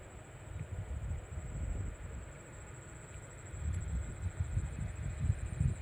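An electric motor pump runs outdoors in a steady low rumbling drone with a thin high whine, swelling slightly louder toward the end.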